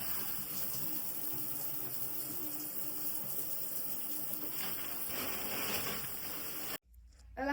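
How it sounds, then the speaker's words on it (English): A shower runs with a steady hiss and spray of water, continuous and fairly close, then cuts off abruptly near the end, leaving brief quiet handling sounds. "The first thing I need to do is take a shower"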